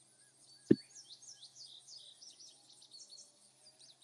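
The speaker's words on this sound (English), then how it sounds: "Like I hear birds chirping." Faint, scattered birds chirp and tweet high up throughout, with one sharp knock early on and a quiet, still background.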